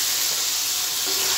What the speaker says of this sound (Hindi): 5 से 7 मिनट के लिए अच्छी तरह टिंडों को हम भून लेंगे